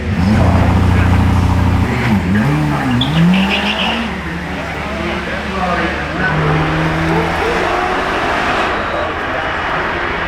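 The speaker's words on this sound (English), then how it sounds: "This is the SCV12 making its way off the start line." An SCV12 supercar pulls away from the start line, its engine loud and close with rising and falling revs and a brief tire squeal, over a busy crowd and commentary at a supercar hill event.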